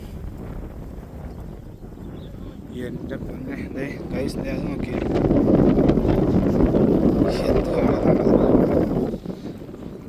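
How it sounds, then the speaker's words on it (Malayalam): Strong wind roars and buffets the microphone at the Parunthupara hilltop, building louder midway, while people talk over it. "കാറ്റാണ് കേട്ടോ. അങ്ങനത്തെ കാറ്റ്."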